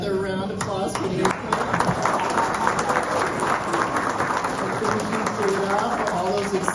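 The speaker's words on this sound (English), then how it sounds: "Another round of applause for you." A crowd at a charity walk kickoff ceremony at the Disneyland Hotel breaks into sustained applause, dense steady clapping with some voices mixed in, loud and close throughout.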